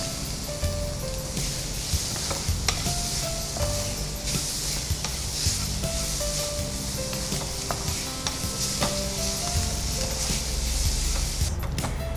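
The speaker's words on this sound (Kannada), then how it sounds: "ಇದು ಚೆನ್ನಾಗಿ ಫ್ರೈ ಮಾಡಿ ಗ್ರೇವಿ ಮಾಡಬೇಕು" Masala for a coriander gravy frying and being stirred in a pan, a steady sizzle with repeated scraping stir strokes throughout, close and continuous with no talking.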